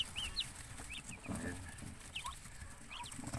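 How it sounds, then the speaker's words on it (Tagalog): A tiny newly hatched chicken chick, kept among ducks on a hot day, gives thin high peeps in short repeated bursts over a noisy outdoor background. "Sisi ng manok yan."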